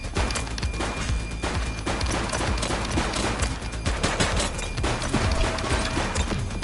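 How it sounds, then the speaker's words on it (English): Rapid, continuous gunfire from a police shootout in the video game The Precinct, dense overlapping shots and bursts filling the whole stretch at steady loudness over a busy background. "He's shooting!"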